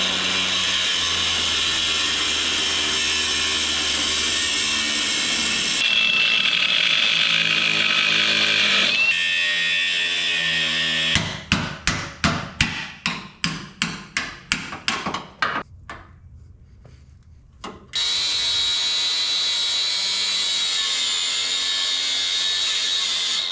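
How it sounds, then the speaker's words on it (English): A grinder cuts a bracket off a Jeep Gladiator's steel frame, grinding away welds: a loud, steady, harsh whine runs for several seconds, changes pitch, then breaks into a quick series of bursts, stops briefly, and comes back as a continuous roar. "There's two little sections of weld we're gonna have to grind off on both sides."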